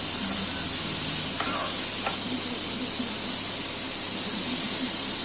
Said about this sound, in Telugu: ఇప్పుడు నేను ఒక్కొక్క వెజిటేబుల్ని వేసేసానండి. ఇది బాగా ఫ్రై అయ్యాక కొంచెం సాల్ట్ వేసి మూత పెట్టేస్తాను.